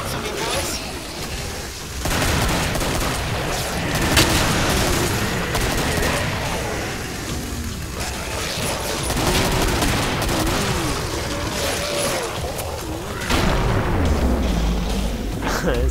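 Rapid shotgun blasts from an AA-12 in the video game Killing Floor, booming and fusillade-like in loud, dense bursts through the whole stretch, mixed with game effects and excited talk from players.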